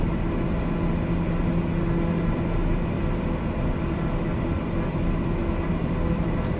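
Steady, dense roar of a jet airplane engine at open throttle in Microsoft Flight Simulator 2020, flying around Mt Rainier, holding an even, constant drone without breaks.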